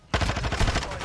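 A rapid burst of gunfire in a ranked shooter game, heard as loud, close, rattling shots that run for about a second.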